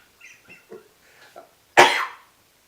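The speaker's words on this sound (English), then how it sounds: "I'm coughing because I got something in my throat" A single harsh cough from a person with something caught in the throat, loud and close, bursting out after a few soft murmurs and fading over about half a second.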